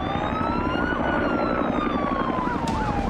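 Several police car sirens wail together at a beach rescue scene on Campbell Parade, a steady loud layered rise and fall continuing throughout with a busy background.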